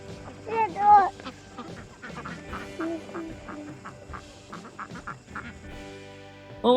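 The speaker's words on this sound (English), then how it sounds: "they raise their ducks in this electric netting" Ducks kept in electric netting on open farm pasture quack repeatedly in short, bright bursts, several birds close by and fairly loud, calls clustering in the first half and returning at the very end.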